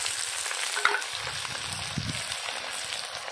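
Onions frying in oil with bay leaves and pulao spices, giving a low, steady sizzle with a sharp tap and soft stirring sounds close by.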